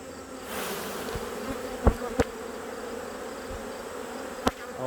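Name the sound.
honeybees buzzing in a hive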